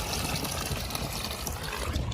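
Water pours steadily into a farm pump, a constant close rushing flow with low rumble beneath and no voices.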